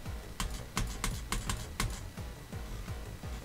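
Quick, uneven key clicks and clacks of typing on a computer keyboard, close and fairly quiet, forming a short burst of keystrokes with no talking.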